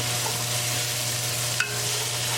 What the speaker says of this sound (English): Keep it moving and we're going to cook the tadka until all the onions are nicely translucent